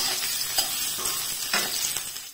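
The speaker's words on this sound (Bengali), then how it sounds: "আস্তে আস্তে পেঁয়াজ কুচিগুলোকে দিয়ে নিলাম, দিয়ে ভালোভাবে এগুলোকে একটু এরকম নাড়িয়ে নেব" Chopped onions sizzle and fry in a pan while being stirred, a steady close hiss with a few soft scraping strokes throughout, no voices.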